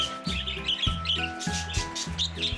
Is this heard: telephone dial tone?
no